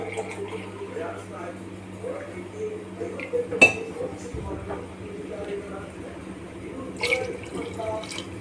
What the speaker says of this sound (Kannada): 2 ಗ್ಲಾಸ್ ನೀರನ್ನು ಹಾಕ್ತೀನಿ.